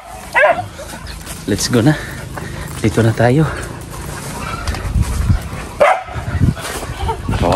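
Dogs bark, yip and whimper at close range in short, excited bursts, mixed with people talking over them.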